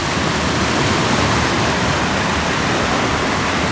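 Rushing water roars steadily and loudly, a dense continuous wash of sound with no other noises on top.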